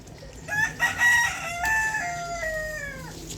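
A rooster on a rooftop garden crows loudly and close, a long drawn-out call with a rising start and a slowly falling, fading finish, over quiet background.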